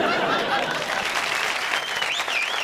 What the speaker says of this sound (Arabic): صفقوا لي يلا صفقوا لي.